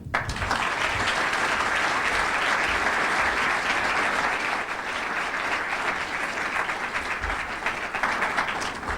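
A lecture audience welcomes two speakers at a book discussion with loud, sustained applause, dense clapping that holds steady throughout and thins slightly toward the end.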